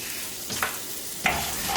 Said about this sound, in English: the reason why we added oil in there is to help that happen, that little sizzle going on there